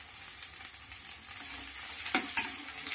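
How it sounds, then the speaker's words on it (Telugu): Onion, curry leaves and coriander fry for poha with a soft, hissing sizzle. A few louder spatters and stirring knocks cut through, especially toward the end, and the whole thing stays fairly quiet and near. "ఇంకా ఈ పదార్థాలన్నీ మంచిగా వేగినవి"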